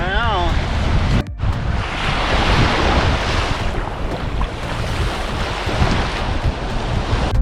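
Surf washes onto a semi-private beach in a continuous loud roar mixed with wind buffeting the microphone, and a brief voice is heard at the start.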